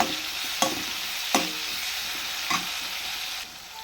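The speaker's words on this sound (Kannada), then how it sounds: "ಇದಕ್ಕೆ ಒಂದು ಕಟ್ ಮಾಡಿರೋ ಈರುಳ್ಳಿ, ಇದು ಹಾಕಿ ಸರಿಯಾಗಿ ಕಲಿಸ್ಬೇಕು" Chopped onion stirred in a hot frying pan gives a continuous steady sizzle, broken by three or four distinct scraping strokes of the spoon, with no voices.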